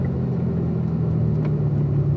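A race car on a track gives a steady, close engine rumble with a low drone under it, holding fairly even throughout the short stretch.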